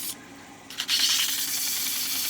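Cherry wood being sanded with coarse 60-grit sandpaper, a steady broad rasping hiss that starts after a brief quiet moment and continues close and loud without a break.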